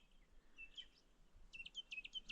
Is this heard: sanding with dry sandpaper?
no